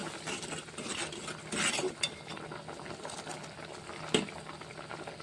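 Lentils bubble at a steady simmer in a pot for spinach dal curry, a soft continuous seething with a few louder clinks and knocks from the pan along the way, and no voices.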